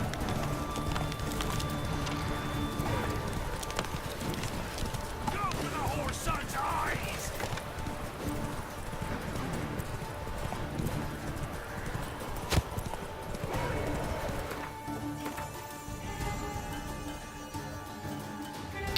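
Galloping horse hooves from the mount Roach in a video game, a steady clip-clop running throughout under a constant game soundscape, with someone talking over it at times.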